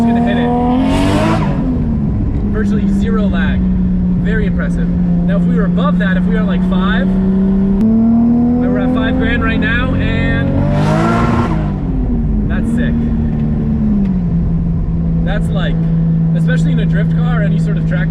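A small-turbo car engine on a dyno revs up in two long pulls toward about 4,500 RPM, its loud droning tone rising and then holding steady, with a brief throttle blip between the pulls.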